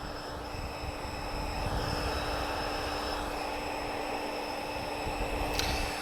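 Portuguese Air Force Chipmunk Mk 20 with a Lycoming engine flying at an airshow, a faint, steady droning hum with a sustained tonal whine, distant and fairly constant across the few seconds.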